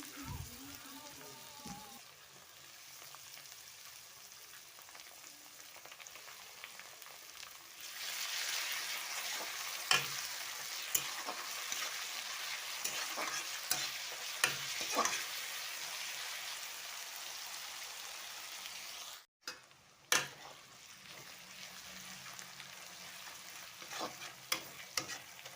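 Ginger garlic paste sizzles and fries with onions in a pan for a mutton curry, a steady crackling hiss with occasional stirring clinks and a brief break partway through.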